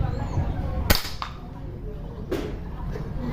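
A single sharp crack of an old SDB Classic .22-caliber air rifle firing, followed by a faint snap and a softer second impact, with quiet ambient noise around.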